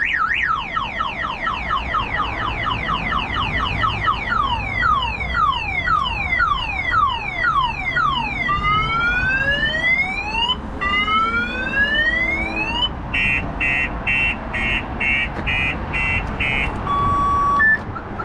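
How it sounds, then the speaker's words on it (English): A loud Clifford 330X2 car alarm on a 2016 Vauxhall Corsa cycles through its tones: rising whoops, fast sweeping wails, then pulsing beeps, all close and continuous. "it will set the alarm off"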